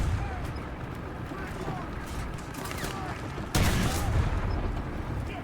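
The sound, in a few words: tank gun shot in a video game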